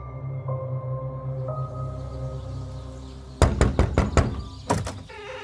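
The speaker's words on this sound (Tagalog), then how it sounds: "Kaagad akong bumangon nang makarinig ng malakas na katok sa pintuan." Loud knocking on a door in a Filipino aswang horror audio drama: a rapid burst of about five heavy knocks, a pause, then two more. A low ambient drone runs throughout.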